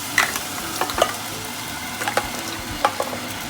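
Peaches cook in a heated pan with a gentle continuous sizzle, broken by a few utensil scrapes and taps, close and moderately quiet with no voices.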